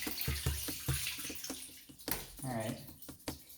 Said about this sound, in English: rinse off your oats too, so that it gets all of the old gunky water off